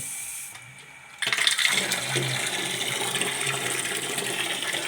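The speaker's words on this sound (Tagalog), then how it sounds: "Try natin buksan yung gripo." A faucet is turned on after a brief quiet moment, and water then runs steadily with a hissing, splashing rush.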